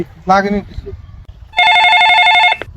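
A telephone bell rings in a steady electronic trill for about a second, loud and close, after a person briefly speaks.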